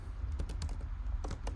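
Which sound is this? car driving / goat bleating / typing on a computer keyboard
typing on a computer keyboard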